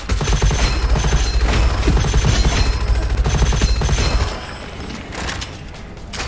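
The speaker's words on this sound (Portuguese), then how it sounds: "o som quando você dá headshot é super viciante" Gunfire in the shooter video game Gunfire Reborn rattles in rapid, loud bursts mixed with sharp impact hits for about four seconds, then drops to quieter scattered shots and clanks.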